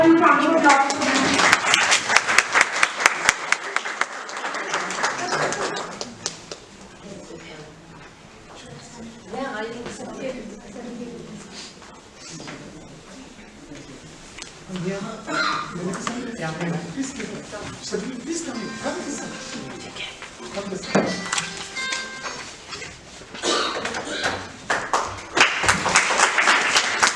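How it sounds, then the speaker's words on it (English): Applause rises and falls for award-winning presenters at a business conference, with louder bursts of clapping at the start and end and talk from the stage in between. "Please have a few round of applause for them."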